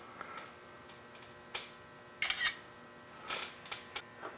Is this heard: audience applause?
no